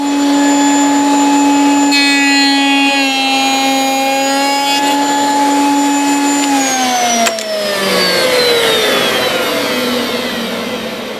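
Wood router fitted with a slot cutter cutting a 5.9 mm tongue in wood: a loud, steady high-pitched whine that shifts pitch and then drops and strains as the cutter bites into the workpiece, with no talking.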